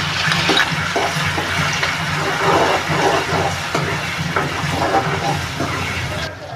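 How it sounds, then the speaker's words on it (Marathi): Garlic and chili sizzle in hot oil for prawn masala, a steady loud crackling hiss with scattered pops running throughout. "आपलं तेल तापलेलं आहे आता आपण लसूण मिरची"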